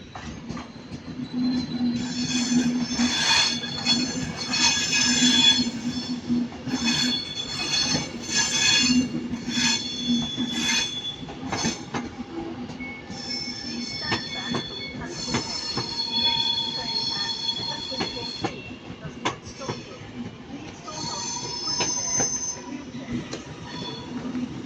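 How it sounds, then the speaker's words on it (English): An Avanti Pendolino class 390 train pulls into Manchester Piccadilly, its wheels squealing in loud, sustained high-pitched tones over a steady rolling rumble, with the squeal shifting and fading toward the end. "we got another Avanti coming in. Another Pendolino."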